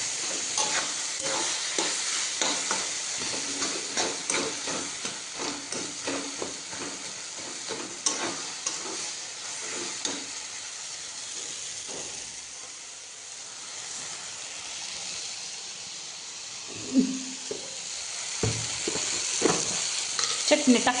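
Tomato curry frying in a pan under repeated spoon stirs, with a steady sizzle and hiss broken by scraping strokes and a few louder knocks near the end, close up and with no one talking.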